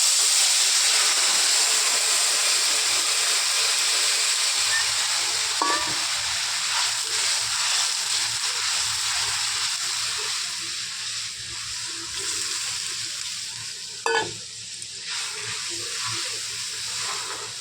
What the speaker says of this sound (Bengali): এখানে আমি জল গরম করে রেখেছি, গরম জলটা দিয়ে দেব।